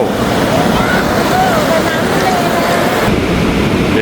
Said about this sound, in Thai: ตอนนี้อยู่ในทะเลแล้ว โดนน้ำทะเลบ้างแล้วนะจ๊ะ